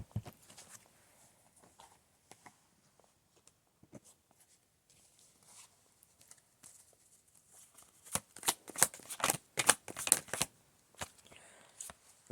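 Tarot cards are shuffled by hand during a reading, starting as soft, sparse riffling and rubbing, then turning into a burst of louder, rapid crisp shuffles near the end.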